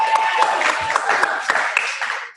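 An audience at a recognition night claps for people who have finished their challenge: steady, dense applause that fills the whole moment, with a voice faintly audible beneath it.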